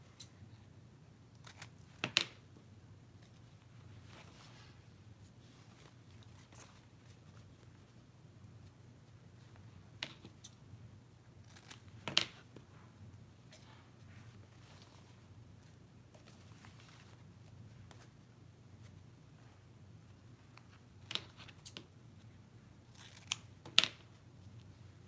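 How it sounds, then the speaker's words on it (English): Quiet room tone broken by a handful of sharp, crisp snips of scissors cutting ribbon for homecoming mums, spaced several seconds apart and sometimes in quick pairs. "Now I can use my good scissors."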